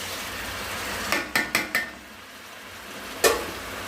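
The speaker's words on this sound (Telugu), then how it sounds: "ఇంకో అల్లం వెల్లుల్లి పేస్ట్ కూడా వేస్తున్నాం." Ginger garlic paste goes into a hot pan for a fish curry, giving a quick run of four sharp clinks and stirring scrapes, then a quiet stretch and one more loud clatter over a faint sizzle.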